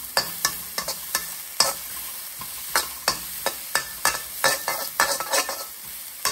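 Garlic fries in a pan for fried rice, a light continuous sizzle punctuated by frequent quick scraping stirs of a spatula, close and fairly loud.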